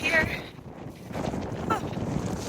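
Wind gusting across an exposed mountain ridge on Franconia Ridge along the Appalachian Trail, a steady broadband rush buffeting the microphone throughout, with a brief voice heard near the start.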